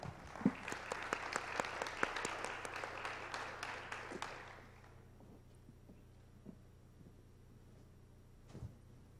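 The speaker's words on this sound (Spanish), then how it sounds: "quería darle un aplauso al Comité Universidad Empresa Estado" Applause for the University Company State Committee during a talk: several seconds of steady clapping from a modest audience that fades out midway, leaving a quiet room with a few scattered thumps.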